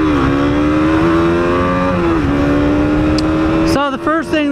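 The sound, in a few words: KTM 200 Duke motorcycle accelerating at speed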